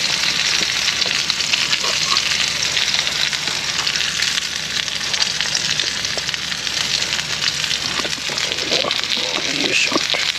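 Akaushi beef sizzles in a pan at a campsite, a loud, dense, continuous frying hiss close by with scattered small pops and crackles throughout.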